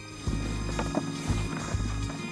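Hooves of a Vercors horse, a small bay mountain breed, clip-clop in a steady run of strong, close, thudding strikes, with several hits landing alone and no talking.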